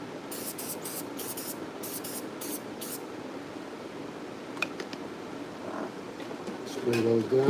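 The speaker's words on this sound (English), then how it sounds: "Spray those down." Disinfectant spray bottle misted over barber razors in a barbershop: a rapid series of short, sharp hissing bursts close by, then quieter rustling, with a voice speaking near the end.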